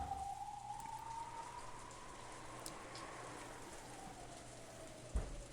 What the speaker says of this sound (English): Outside, it was still raining.